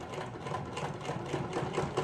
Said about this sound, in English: You want to sew right along the edge